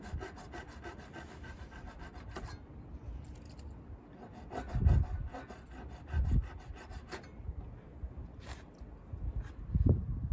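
Hand-trimming guitar inlay material on an electric guitar build, a steady scraping, rasping stroke repeated close by, with a few louder scrapes toward the end and no talking.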